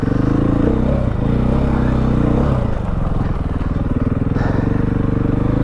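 A 2016 KTM 500 EXC dirt bike engine is heard up close as a loud, throbbing roar. The pitch shifts as the throttle changes partway through, and a rough mechanical rumble continues underneath.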